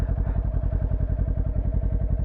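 A motorcycle idling along in first gear on light throttle during a slow beginner circle drill, a steady throbbing engine pulse with even rapid beats, close and alone without talk.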